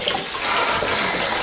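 Tap water rushes loud and close over tinned chickpeas being rinsed, a steady broadband gush with no pauses or voices.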